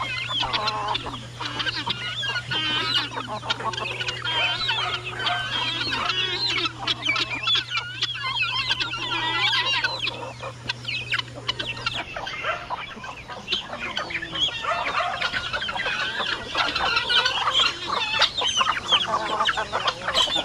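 Chickens clucking and geese honking on a provincial farm with ducklings, a dense, continuous chorus of poultry calls close by for the whole stretch, with no talk.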